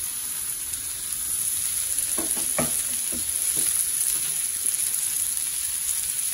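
Beans, tomato, chilli and leaves frying in a pan for fried rice give a steady, close sizzle with a few sharp crackles and spatters partway through, with no voices.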